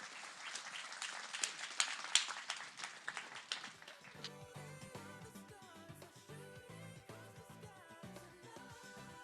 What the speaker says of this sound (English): Big round of applause for the data files.